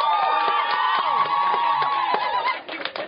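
Poetry slam crowd cheering and whooping, loud and continuous with shouts and a few claps, thinning out near the end.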